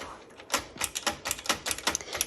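Crisp mechanical clacks from a 1965 Olympia SM9 typewriter with extended carriage, its backspace key pressed repeatedly in an uneven run of about a dozen sharp strikes, close up with no talking.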